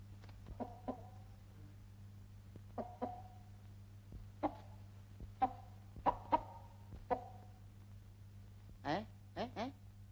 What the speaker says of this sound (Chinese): 公鸡正等着吃点心呢